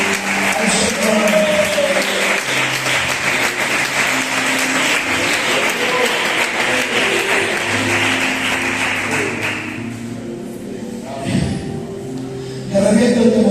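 A church congregation gives loud sustained applause during a sermon, dense clapping filling most of the stretch before tapering off, with a voice speaking over it and a brief burst near the end.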